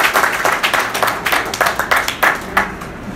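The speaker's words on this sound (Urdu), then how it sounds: "ہم ان کے لیے ایک زبردست تالیاں بجاتے ہیں۔" A crowd at a public address in Orangi Town claps together in a burst of applause, dense and fairly loud, with uneven rhythmic swells throughout.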